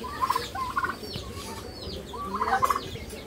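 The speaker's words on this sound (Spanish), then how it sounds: "Ahí tiene gallinas, gallos," Hens and roosters on a rural home property cluck and call in short bursts, moderately close, with a few scattered squawks between quieter moments.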